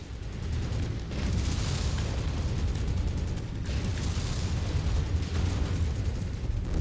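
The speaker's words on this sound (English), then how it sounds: "Incoming missile." Missile explosions in the MechWarrior 5 mech combat game, a dense, continuous rumbling barrage of heavy booms and bursts that stays loud throughout, with a couple of swelling surges.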